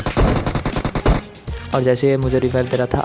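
Rapid gunfire from the PUBG Mobile video game fills the opening second in a fast rattling burst, then gives way to someone speaking loudly over quieter game sounds.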